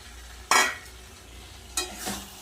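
Cut and washed Bombay duck fish added to a hot pan and stirred, two bursts of sizzling and stirring about a second apart over a quiet background.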